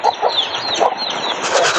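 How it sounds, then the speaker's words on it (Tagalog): Chickens cluck in quick, overlapping bursts on an early-morning vegetable farm, close and fairly loud, with no talking. "Manok diri nga glumlong guys oh."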